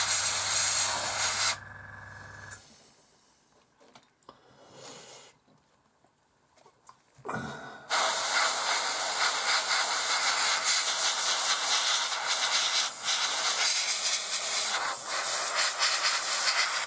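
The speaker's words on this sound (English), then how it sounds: "On this extremely cheap airbrush from Wish, to give it a go." A cheap £8 airbrush sprays paint onto an Airfix 1/72 scale Hawker Hurricane model kit, a loud steady hiss that stops for a few seconds and then resumes and runs on unbroken.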